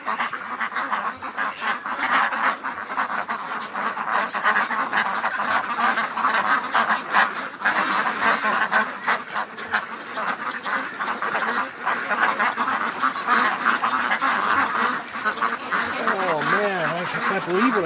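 A flock of domestic ducks being herded into their pen at night, quacking and honking steadily and close by throughout, with a voice occasionally under the calls.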